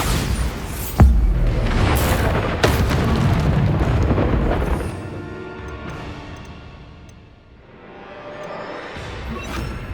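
A Bombarda spell detonates in Hogwarts Legacy, a loud sudden blast followed by a second crash and sustained rumbling debris that gradually fades into quieter ambience.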